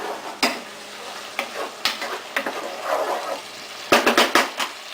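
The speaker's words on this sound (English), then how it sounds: "Now give it a final stir." A spoon stirs clam sauce in a hot pan, with several sharp scraping knocks against the metal over a light sizzle, close and clear.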